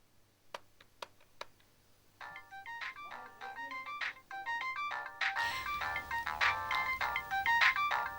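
A few sharp taps give way to a phone's repeating electronic ringing melody while calling Selvi, growing fuller and louder as the tune continues with no one speaking.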